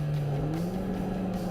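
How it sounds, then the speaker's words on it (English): Race cars accelerating over the timing line at Silverstone, a steady engine drone climbing slightly in pitch, heard from a distance and moderately loud, with no voices. "As the cars accelerated their way over the timing line"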